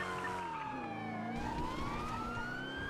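A police car siren in GTA NoPixel wails steadily, its pitch sweeping down and then climbing again over a constant engine hum, loud and close, with no talking.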